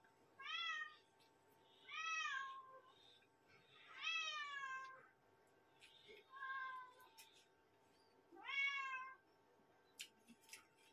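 A cat meows repeatedly, about five drawn-out rising-and-falling calls spaced a couple of seconds apart, fairly close in a quiet indoor setting, with a faint voice in the background.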